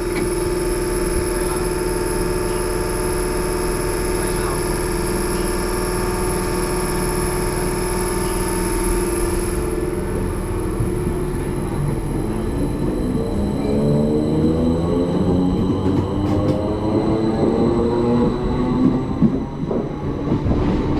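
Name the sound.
train departing station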